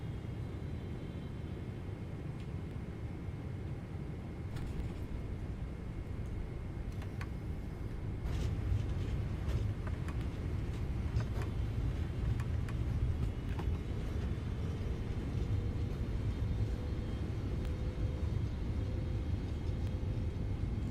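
A PMDG 777-300ER rolling out after landing in Microsoft Flight Simulator 2024 with manual braking and reversers stowed: a steady low rumble of wheels and engines, slowly rising slightly, with no talk.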